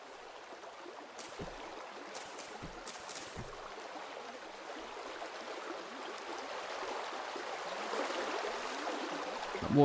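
Loud rushing water echoing inside a cave in the game Vintage Story, a steady dense wash of flowing sound that swells slightly toward the end, heard alone without talk.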